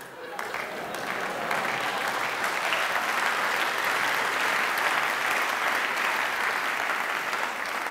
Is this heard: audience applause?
yes